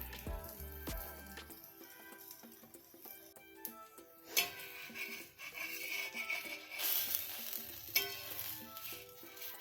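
Dhapate flatbread sizzles in oil on a pan, a steady frying crackle with occasional louder spits and stirring clatter, close and alone without talk.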